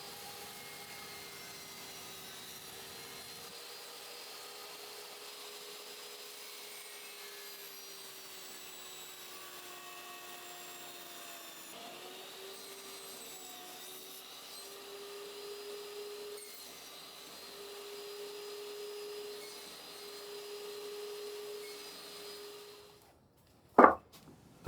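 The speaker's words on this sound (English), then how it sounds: "I can still get rid of most of the waste with a couple of passes on the saw." A table saw makes a couple of waste-removal passes for roundovers on a solid maple benchtop: a steady, sustained motor whine drifts slightly in pitch, drops away near the end, and is followed by a brief sharp knock.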